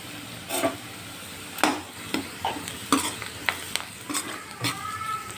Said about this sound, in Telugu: ఇక్కడ ఆనియన్స్ కూడా ఫ్రై అవుతున్నాయి